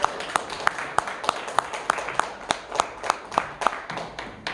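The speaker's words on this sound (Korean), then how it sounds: "크게 박수로 한 번 더 환영해 주시겠습니다" Rhythmic applause from a crowd, steady sharp claps repeating for several seconds with murmuring voices underneath.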